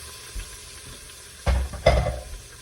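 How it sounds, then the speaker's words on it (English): Vegetables sautéing in garlic-infused butter after a GrillMates marinade, with a low background hiss that swells into two louder bursts of sizzle and stirring in the pan. "I'm just going to saute them for a minute or so. Just get them in that infused butter, that infused garlic butter."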